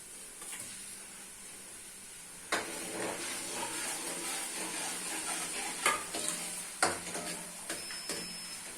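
Garlic goes into a pan of softened onions and fries in a quiet, steady sizzle, broken by scattered clinks and scrapes of stirring that grow busier partway through, with no voices.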